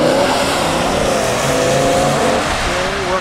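Race car lapping at speed, a loud steady engine drone with a rising, wavering tone and hints of tire squeal, no pauses throughout.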